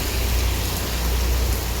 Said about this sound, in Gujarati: આ વરસાદ તો છે સામે વાવાઝોડું ચાલુ ના થાય તો સારું